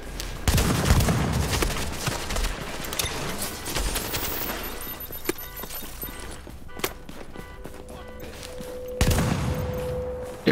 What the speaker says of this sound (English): It's nice to have unlimited shotgun ammo, though. Test it out.